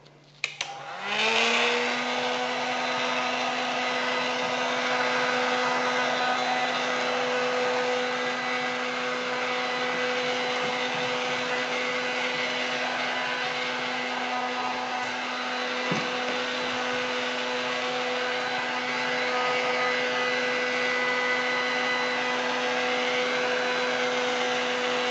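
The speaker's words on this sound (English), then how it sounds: "we will blow dry it for a minute" A blow dryer runs steadily on a sealed Slate-Lite shower wall surface, a loud continuous whirring drone with a constant motor whine that starts abruptly and holds for about twenty-five seconds, close up and alone.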